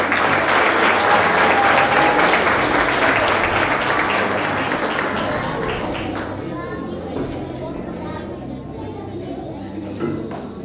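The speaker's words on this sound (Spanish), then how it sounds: "Démosle ahora un fuerte aplauso." An audience at a school event, with fifth- and sixth-grade children about to perform music, claps loudly and steadily, the applause thinning and fading out over ten seconds into quieter room noise with a few stray taps.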